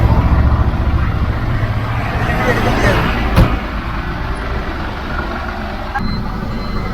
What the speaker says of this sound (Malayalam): നമ്മുടെ ഒരു പുതിയ പുത്തൻ അശോക് ലേലൻ്റെ പുതിയ വണ്ടിയാണ് നമ്മൾ ഓടിക്കാൻ പോകണം